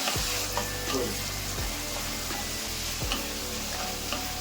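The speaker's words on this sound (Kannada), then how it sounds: "ಈರುಳ್ಳಿ ಸ್ವಲ್ಪ ಬಾಡ್ತಾ ಇದ್ದಂಗೆನೆ ಇವಾಗ ಟೊಮೊಟೊ ಹಾಕೊಂತ ಇದ್ದೀನಿ" Chopped tomatoes go into onions already frying in a pan, giving a steady loud sizzle with stirring scrapes and occasional clicks from the spoon.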